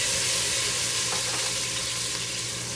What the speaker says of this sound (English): Now we're gonna drop in 2 tablespoons of minced garlic.